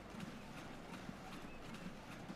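Horse hooves clip-clop in the game Transport Fever 2, a faint steady trot with evenly spaced beats over a low ambient rumble.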